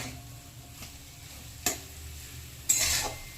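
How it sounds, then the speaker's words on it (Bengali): Spiced potato filling for singara gets stirred in a pan over a quiet sizzle, with two distinct spatula scrapes about a second apart. "দু মিনিট একটু নাড়তে হবে"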